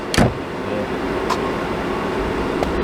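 A gas furnace blower runs with a steady, even whooshing hum. A sharp click comes near the start, with fainter clicks later.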